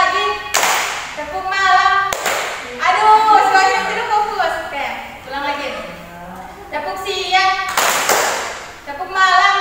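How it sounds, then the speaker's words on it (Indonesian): A group claps hands in the Indonesian tepuk pagi, siang and malam ice-breaker, sharp loud claps coming in rhythmic bursts between chatter and voices. "tepuk pagi itu 1 kali tepukan seperti ini, tepuk siang 2 kali tepukan seperti ini, dan tepuk malam setengah tepukan"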